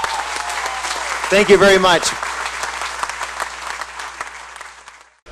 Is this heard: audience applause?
yes